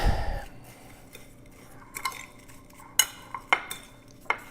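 Calamari pieces are mixed in a bowl, with scattered clinks and knocks of utensil on the bowl and soft wet shuffling between them, close and fairly quiet, with no talking.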